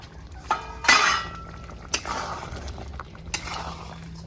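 Mutton and potatoes are stirred in a pot while cooking village-style, giving a few sharp metallic clanks and scrapes of a spoon against the pot, fairly close and with no talking.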